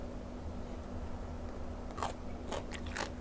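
Crunchy chewing of an old-style papaya salad with fresh shrimp and spring onion, a few close, crisp bites near the end over a steady background hiss and hum.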